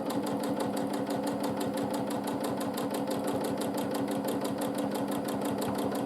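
A sewing machine stitches free-motion quilted swirls and arches, a fast, steady mechanical needle rhythm that runs evenly throughout at close range, with no talking.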